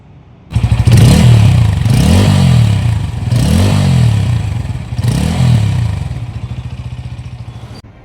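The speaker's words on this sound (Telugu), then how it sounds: "ఒకసారి అయితే మీకు బైక్ ఇంజన్ ఆన్ చేసి ఎగ్జాస్ట్ నోట్ అయితే ఒకసారి వినండి గైస్." A Bajaj Pulsar N160 motorcycle idles close and loud, its exhaust note rising and falling through four quick throttle blips over a steady idle before settling back down.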